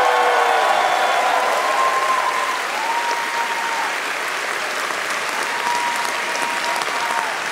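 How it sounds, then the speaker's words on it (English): An audience gives a steady round of applause for the expo planning team, dense continuous clapping with a few higher tonal squeals drifting over it, loud and even throughout. "can we just get like a round of applause for..."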